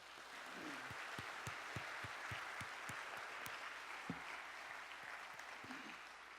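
A large church congregation at a mission conference worship service applauds steadily throughout, a dense wash of clapping with some sharper individual claps standing out, heard from a distance in a big room.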